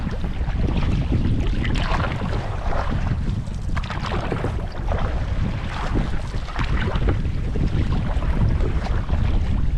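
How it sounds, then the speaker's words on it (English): Strong wind gusting across a wilderness lake in canoe country, a loud, unbroken rush and buffeting roar close on the microphone that holds steady throughout with no voices. "Well, the wind picked up."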